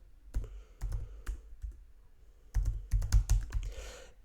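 Keys tapped on a computer keyboard while entering a formula in Excel: a few soft keystrokes, a pause, then a quicker cluster of close, crisp clicks.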